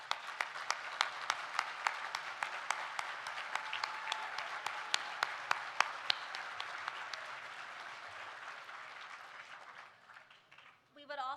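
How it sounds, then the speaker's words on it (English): A seated crowd gives a long, steady round of applause at a volunteer awards celebration, dense rapid clapping holding for about ten seconds before thinning out near the end. "I'd like to ask the steering committee, the award judges, and the winner buddies to all please stand so we can thank you with a well-deserved round of applause."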